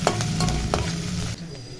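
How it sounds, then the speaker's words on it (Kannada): Finely chopped onion frying in about two tablespoons of oil in a pan, a close steady sizzle with a few sharp stirring clicks and scrapes, quieter toward the end. "ಒಂದು ಬಾಣಲಿಗೆ ಒಂದು ಎರಡು ಟೇಬಲ್ ಸ್ಪೂನ್ ಆಗೋಷ್ಟು ಎಣ್ಣೆ ಹಾಗೆ ಒಂದೇ ಒಂದು ಇಡಿ ಆಗೋಷ್ಟು ಈರುಳ್ಳಿ ಸಣ್ಣದಾಗ ಹಾಕೋತಾ ಇದ್ದೀವಿ ಸ್ವಲ್ಪ ಫ್ರೈ ಮಾಡ್ಕೊಳ್ಳಿ"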